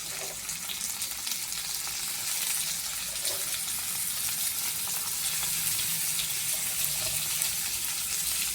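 Tomatoes sizzle in a pan over softened onion, giving a loud, steady, close crackle of frying with faint stirring and no talking.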